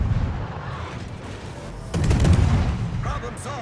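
Naval gunfire lands on a destroyer in World of Warships, heavy booms and impacts rolling under a steady low rumble, with a sharp cluster of hits near the middle and a voice speaking toward the end.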